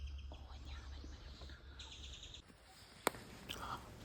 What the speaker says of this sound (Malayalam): ഉൾക്കാടിൽ കണ്ടോ ഇങ്ങനെ പക്ഷികളുടെയും മൃഗങ്ങളുടെയും ഒച്ച മാത്രമേ നമുക്ക് കേൾക്കാൻ സാധിക്കുകയുള്ളൂ